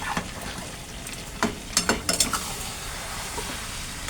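Mutton curry being sautéed in a pan gives a soft, steady sizzle, broken by a few sharp clinks and scrapes of a spoon stirring against the metal, close by and without talk.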